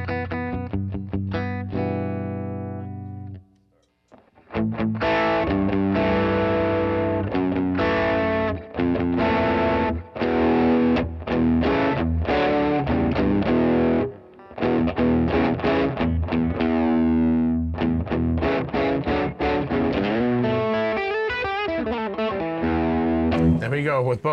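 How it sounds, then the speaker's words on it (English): Electric guitar run through overdrive and fuzz pedals stacked together gives a thick, buzzing distorted tone, with chugging chords and choppy bursts that briefly drop out to silence, loud and sustained with no talk over it. "I think we should try the overdrive and fuzz together combined."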